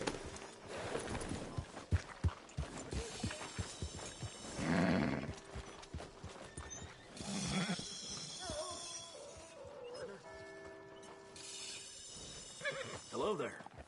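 A horse in Red Dead Redemption 2 whinnies loudly and snorts, with clip-clopping hooves, shuffling movement and scattered game sounds around it, and a voice speaking at intervals.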